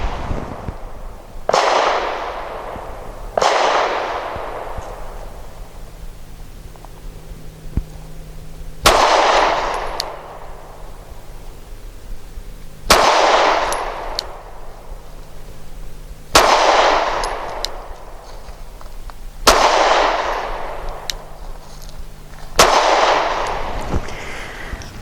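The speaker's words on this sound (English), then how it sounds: "5 shots for accuracy, we're going to use the 365 Elite ammunition, 115 grain from Sig" Seven sharp pistol shots from a Sig P365 SAS firing Sig 365 Elite 115 grain ammunition ring out on a range, spaced a few seconds apart, each a loud crack with a ringing decay and quiet gaps between.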